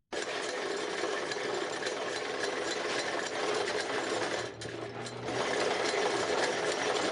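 A single sewing machine runs steadily for a dressmaker sewing clothes, its rapid mechanical whir continuous and fairly close, with a brief dip in the middle before it picks up again; no one speaks.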